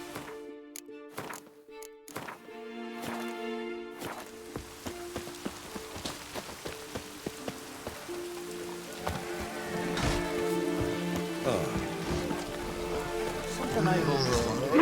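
Rainfall in the video game The Witcher 3 patters and drips steadily, soft at first and then building into a denser wash alongside scattered thuds and ringing tones.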